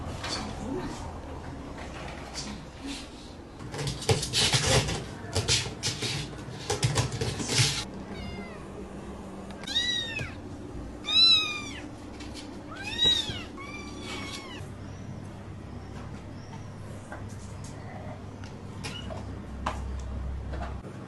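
A mother cat with her young kittens meows repeatedly, a string of short rising-falling calls in the middle stretch, with rustling and handling noise early on and a few softer cries later.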